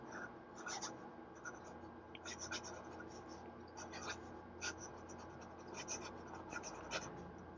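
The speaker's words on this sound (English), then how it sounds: "So let's do the writing sample and then we're done." A vintage 1950s Parker Slimfold fountain pen scratches across paper in short bursts of strokes, faint and close, with soft pauses between words.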